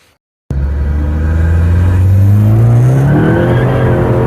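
A Ford Focus ST engine starts up suddenly and roars close by, its pitch climbing steadily as it accelerates on a test drive, loud and continuous with no talking.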